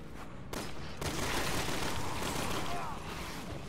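Sustained machine gun fire in Resident Evil 6 rattles loud and dense throughout, a continuous rapid volley with a brief drop in intensity just before it surges again.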